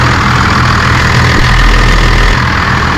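A Cummins diesel truck engine idles loud and close, a continuous heavy low rumble with a steady knocking pulse that never lets up.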